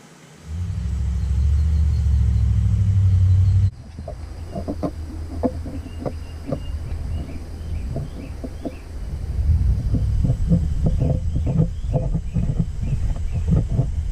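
A leakdown tester pressurizes a cylinder of a pulled Toyota 1FZ-FE engine to 75 psi with a loud, close air rush lasting about three seconds, followed by hissing air leakage with scattered clicks and chirping sounds in the background.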